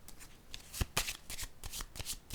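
Cards handled and drawn from a deck during a tarot-style reading, giving a series of soft, close papery flicks and slides in an irregular rhythm, with no voices.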